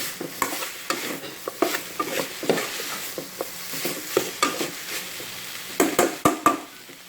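Ingredients for a northern Thai frog curry are stir-fried in a pan, with repeated scraping and clinking strokes over a soft sizzle and no talking.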